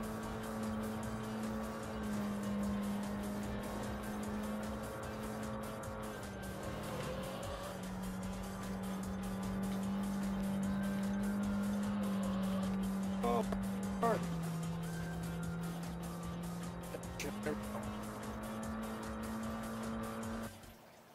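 Tuned car in the racing game Import Tuner Challenge, with a sustained droning engine and turbo note that shifts pitch in steps as the car changes speed, plus brief squeals and thumps near the end.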